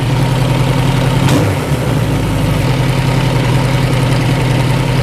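A Suzuki GS1000 motorcycle engine idling during a carburettor tune and sync, loud and close with a steady low rumbling beat and a brief dip in the middle, with no voices.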